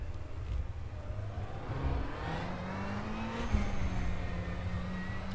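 A race car in rFactor 2 pulls away in first gear, its engine droning steadily and climbing gradually in pitch, heard alone at a moderate level without talk.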